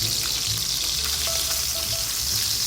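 Chicken, skin side down, sautés slowly in a pan at low temperature, giving a dense, continuous hiss and sizzle close up, with faint scraping underneath.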